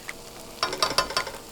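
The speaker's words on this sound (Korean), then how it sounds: "지글지글 이렇게 된장이 익는 소리가, 눌어붙는 소리가 들리거든요." Doenjang paste cooking over medium heat in a stainless steel pan, a brief faint crackle that swells into a series of sharp, close sizzling bursts, with no talking.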